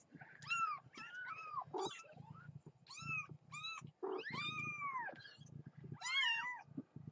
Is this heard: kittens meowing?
yes